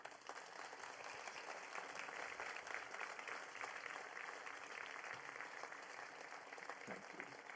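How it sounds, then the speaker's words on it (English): Steady applause from a crowd at an honours and awards ceremony fills the room, an even wash of clapping that carries on for several seconds. "Please give our worthy recipients one final round of applause."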